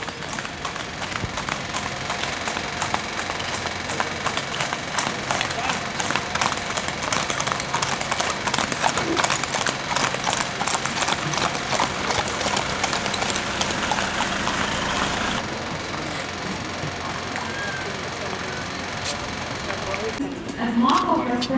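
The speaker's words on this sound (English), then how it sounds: "The galloping of horses is indicating the arrival of a director ma'am." Horses arriving at an Independence Day parade at a police training academy, rhythmic hoofbeats clattering steadily under a loud announcer voice over a PA, with continuous crowd and outdoor ambience.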